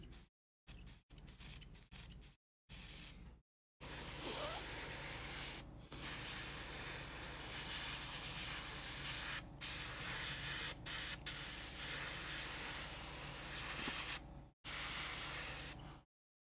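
Aerosol spray paint hissing onto 3D-printed eyeballs in long, steady bursts separated by short pauses, close and continuous, with no talking.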